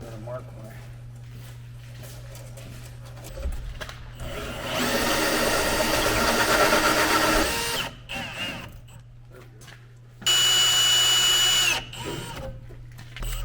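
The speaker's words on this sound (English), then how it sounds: "the last final big modification to the shop for electrical, in my opinion, is going to be drilling that hole straight through the side" A power drill bores a hole through the side wall of a 32 by 32 foot shop, with a long steady whirring run, a pause, then a second higher-pitched burst, over a constant low hum, and a person talks between.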